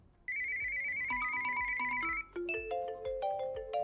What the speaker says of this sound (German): Das ist wie ein Glockenbeat.